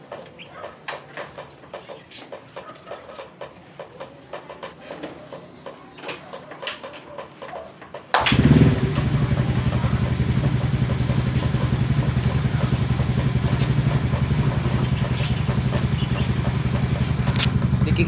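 A Yamaha Mio motor scooter with a faulty starter bendix starts after eight seconds of faint clicking and handling noise. It then settles into a loud, steady, close idle that runs to the end, with no talk.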